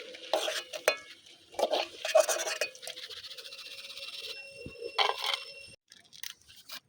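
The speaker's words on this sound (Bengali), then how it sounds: "এইভাবে লাল লাল করে ভাজতে হবে বোঁদেগুলো" Boondi batter dropped through a slotted ladle into hot oil, with bursts of bubbling sizzle and metallic taps of the ladle, then the frying fading to near quiet at the end.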